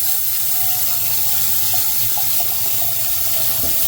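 Water gushes steadily from a Bunnings garden tap once its plug is pulled, a continuous loud hiss and rush with faint mechanical clicks and squeaks, no talking.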